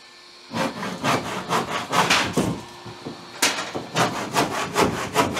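An old hand saw cuts through a house wall in steady, rhythmic back-and-forth strokes that are loud and close, with a short pause midway before the sawing resumes.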